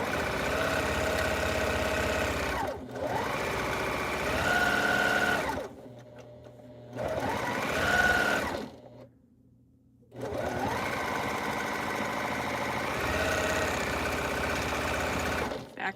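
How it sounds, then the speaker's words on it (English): A sewing machine stitches a tote bag in long steady whirring runs with brief pauses between them, loud and close, with no talking. "Back stitching at the end"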